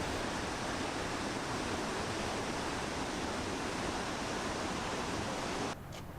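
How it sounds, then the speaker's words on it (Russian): Victoria Falls on the Zambezi River between Zimbabwe and Zambia, outside full flood season, gives a dense, continuous, loud roar of falling water. The roar drops off abruptly just before the end. "мощнейшие потоки воды впечатляли и в таком виде"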